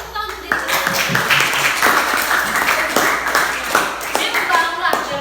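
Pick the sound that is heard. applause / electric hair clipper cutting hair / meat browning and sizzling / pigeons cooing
applause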